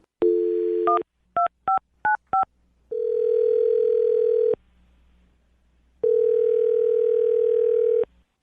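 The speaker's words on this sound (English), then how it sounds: "I'll dial her phone number right now, see if we can get her to answer" Telephone dialing a number: a steady dial tone, then a quick run of four DTMF keypad beeps, followed by two long ringback tones separated by a pause, clean and electronic with no talk.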